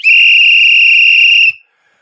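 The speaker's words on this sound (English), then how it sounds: "Blow some whistles, please." A single loud, shrill whistle blast at a high school coaches' gathering holds steady for about a second and a half, then cuts off sharply into near silence.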